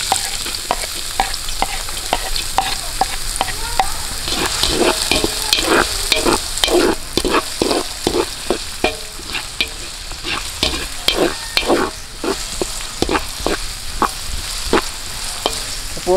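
Onions sauté in a little oil outdoors during pork adobo cooking, a constant close sizzle broken by a quick series of sharp spatula scrapes and taps, no voices.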